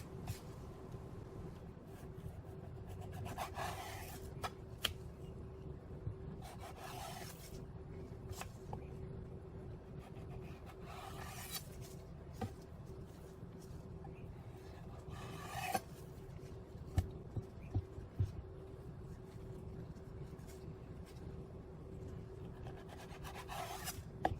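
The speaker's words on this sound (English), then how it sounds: "Give a slight diagonal angle onto this fillet cut here and get most of that bloodline off, just like that." A knife trimming the bloodline from a mahi mahi fillet at a slight diagonal angle, heard as repeated close rasping strokes at a steady pace over a constant low background hum.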